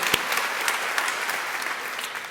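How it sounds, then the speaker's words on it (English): A crowd of students at a college convocation claps in sustained applause, a bright, even patter of many hands with a few sharper claps standing out, heard fairly close and without talk. "let's give you all a round of applause"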